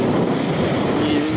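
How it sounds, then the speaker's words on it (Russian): Steady, heavy wind rushes and buffets continuously across the microphone at Las Playas beach on El Hierro island, a dense roaring noise with no speech. "Ветер усиливается."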